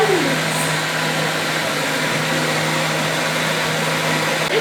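A kitchen grinder grinding hide and seek biscuits for banana ice cream: a loud, steady motor whir with a constant hum that runs unbroken through the whole stretch, close up, with no talk.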